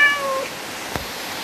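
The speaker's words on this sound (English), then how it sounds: "That's a cat." A single short cat meow from Minecraft rises in the first half second, fairly clear over a quiet background, followed by a faint brief click.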